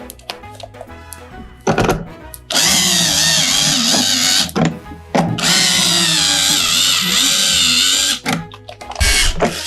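A toy power drill fitting spark plugs on a toy truck whirs loudly and up close in several bursts of different lengths, separated by short pauses and light knocks.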